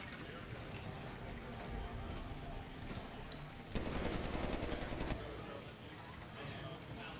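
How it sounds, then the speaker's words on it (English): A robot's mounted machine gun in the Medal of Honor Warfighter video game fires a dense, rapid burst of about a second and a half over a constant noisy game soundscape. "Comes with a mounted cannon and a machine gun."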